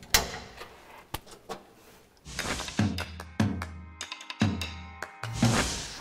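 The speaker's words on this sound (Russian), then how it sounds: "Несмотря на то, что двери такие тяжелые, закрываются они достаточно легко." Heavy steel blast door of a civil defence shelter swinging shut, with several loud thuds and clanks of metal latches and bolts in sequence, close and resonant inside the bunker.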